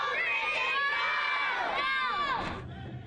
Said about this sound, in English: Crowds gathered at the Chief Gabriel School to celebrate one of their own